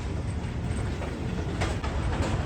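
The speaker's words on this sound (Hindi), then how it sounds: "कराची कैंट रेलवे स्टेशन के प्लेटफॉर्म नंबर 2 पर अप्रोच बना रही है हमारी ट्रेन" A train pulling into platform 2 at Karachi Cantt railway station makes a loud, continuous rumble and roar with faint rattling, steady throughout with no voices.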